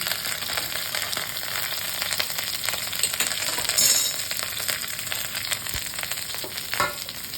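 Onion goes into hot oil with potato and eggplant, giving a steady, close crackling sizzle throughout. Faint utensil clinks come near the middle and end, and nobody talks.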